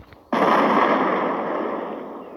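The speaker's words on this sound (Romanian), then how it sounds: "Și tocmai acum a bubuit." A bomb detonates in the mobile shooter game Critical Ops, a sudden loud broadband blast that hits at once and then rumbles on, slowly decaying over two seconds with no one talking.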